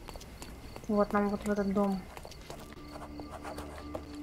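Horse hooves clip-clopping in the Sherlock Holmes: Chapter One video game, a brief run of hoofbeats under someone speaking, then quieter ambient street sound.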